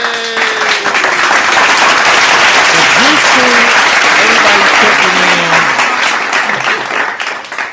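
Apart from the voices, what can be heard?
hand claps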